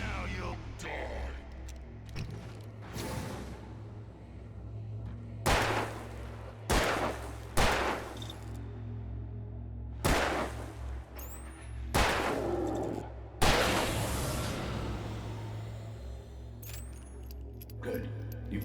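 Gunshots fired in the video game Alan Wake Remastered, a series of sharp, loud single shots spaced irregularly over a low steady hum, with a voice speaking between them.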